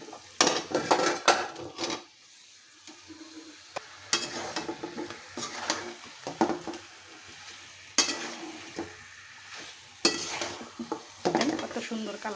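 Potatoes are tipped into a sizzling, fried spice paste in a pan and stirred, giving repeated bursts of spoon scraping and clattering over a steady frying hiss, with no talking.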